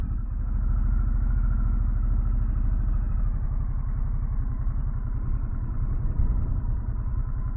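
A 2024 Harley-Davidson Sportster S motorcycle engine rumbles loudly and steadily throughout with a deep, pulsing low throb and no speech, close up and continuous.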